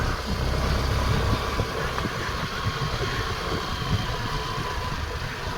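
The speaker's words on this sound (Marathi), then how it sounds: "या मी गाडी बाहेर काढतो जरा इथं" A vehicle engine rumbles low and steady as it is driven out, a moderate idling drone with faint mechanical knocks running for several seconds and no voices over it.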